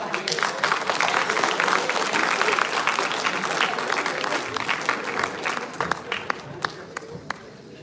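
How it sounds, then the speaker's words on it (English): An audience at an IIM Lucknow panel event applauds the panelists on stage with dense, sustained clapping that thins into scattered claps toward the end. "please a round of applause for the panelists."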